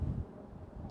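Wind gusting across a fishing lake, a low rumbling buffet against the microphone, strongest at the start and then easing to a steady muffled roar, close and dull with no talking.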